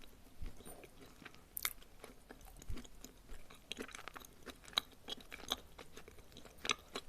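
Close, quiet chewing of edible clay, with a crisp bite near the start followed by steady soft crunching and mouth sounds in an irregular rhythm, without any talk.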